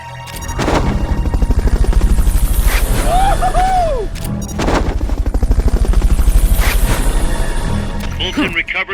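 Fulton recovery helicopter in Metal Gear Solid: Peace Walker, loud rotor thumping and whooshing in two long bursts, overlaid with game effects, a rising-falling electronic whine and a voice announcing over the noise.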